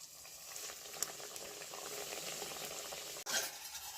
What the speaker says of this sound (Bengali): এখানে আমার সবগুলোই প্যাডিস তৈরি হয়ে গিয়েছে তো এবার ভেজে নেব তেলে